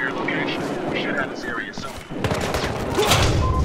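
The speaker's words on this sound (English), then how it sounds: "I think I just got shot around a corner for the first time in a while." Gunfire in the video game Battlefield Hardline, rapid bursts and booming shots that grow louder and denser toward the end, with game noise underneath.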